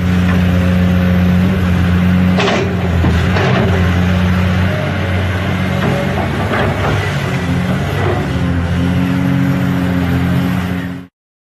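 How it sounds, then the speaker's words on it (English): A diesel excavator engine from the video game Landscape drones steadily and loudly with a low tonal rumble, broken by a few brief mechanical clanks, then cuts off abruptly. "Excavator."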